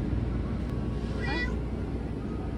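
A single short meow from a street cat met outdoors in New York City, heard briefly mid-clip over a loud, steady rumble of traffic or city noise.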